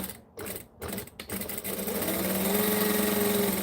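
A sewing machine topstitching a Raggabrash bag, a few short starts and stops, then a steady close whirring run that holds to the end.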